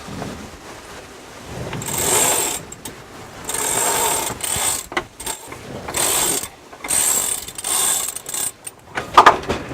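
A sailboat winch on a catamaran clicks and ratchets in quick bursts as a line is worked around it, loud and close, with short pauses between runs.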